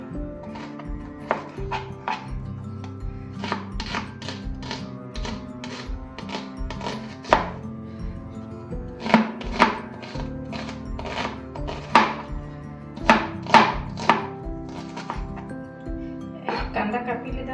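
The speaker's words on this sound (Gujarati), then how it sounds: "એક કાંદા લીધો છે કાપી લેવાનું." An onion is chopped on a board with a knife, giving a long run of close, crisp taps at an irregular pace, some louder than others.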